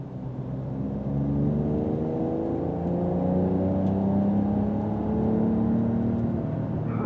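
A Porsche Carrera GTS on a wet track accelerates with a steady, rising engine drone and whir that holds for several seconds, close and unbroken, with no voices.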